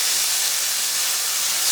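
Minced onions sizzle in a hot pan with a steady, bright hiss that stays even and close throughout.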